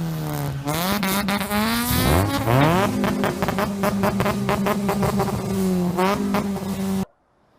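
A voice imitates an Infiniti G35 or Nissan 350Z engine, starting with a low idle, then a rising rev with a sweep up, followed by a steady, sustained buzzing drone close up that cuts off abruptly at the end.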